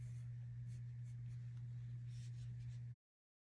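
A pencil sketches a parrot on paper with faint scratchy strokes, close and quiet over a steady low electrical hum, then cuts to silence.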